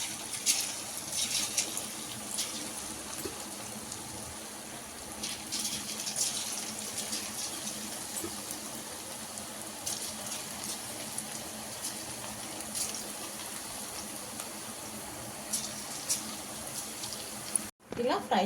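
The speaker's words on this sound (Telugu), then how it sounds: "మనం పకోడీ ఎలా ఫ్రై చేస్తామో అలానే ఫ్రై చేయాలండి" Dondakaya (ivy gourd) pakodi deep-frying in hot oil, a steady hiss and crackle with scattered sizzling bursts running throughout, fairly close, with a voice talking faintly underneath.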